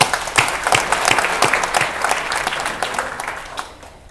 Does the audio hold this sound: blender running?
no